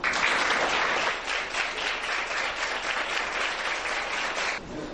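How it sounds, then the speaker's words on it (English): Applause from a school debate audience greets the first speaker on the proposal side in a televised programme, a dense, steady round of clapping that fills the whole stretch before tapering off at the end. "A round of applause for her"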